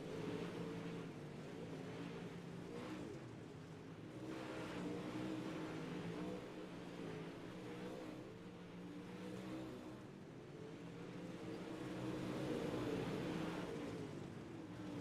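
IMCA-style modified race cars roar around the Chili Bowl dirt track in a racing video game, a steady droning engine hum with gentle rises and falls, fairly faint and continuous throughout.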